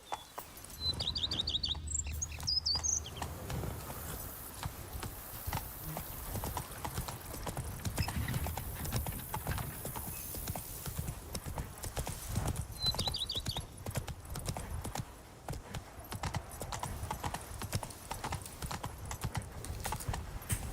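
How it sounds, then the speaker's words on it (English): Horse hooves clip-clopping steadily in The Witcher 3, a continuous rhythmic trot heard fairly close, with occasional bird chirps in the background. "Stupid horse."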